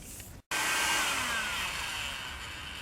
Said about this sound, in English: So what I'm doing here is heating up this black Polyline with a heat gun.